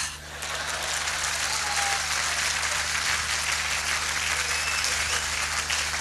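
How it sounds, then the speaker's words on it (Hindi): Dense, steady applause from a large stage-show audience, a continuous wash of clapping that swells in at the start and holds loud and unbroken throughout, with no talk over it. "मेरे को भी पता है, जितना मर्जी मना कर लूं ताली बजाने के लिए, लेकिन नहीं मानेंगे"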